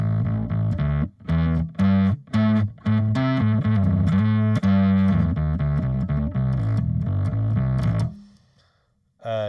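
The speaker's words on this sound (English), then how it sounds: "And let's turn on the distortion." Distorted electric guitar played through a Headrush guitar processor with its distortion effect engaged, loud and sustained with choppy chord stabs at first, then steadier ringing notes before cutting off and decaying near the end.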